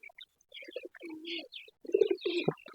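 Pigeons cooing nearby in soft, throaty, repeated phrases, mixed with a few brief chirps.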